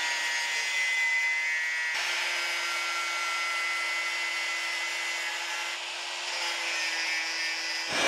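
A plasma cutter hisses steadily and loudly while cutting plastic freehand, a continuous close drone with a brief shift partway through before cutting off at the end.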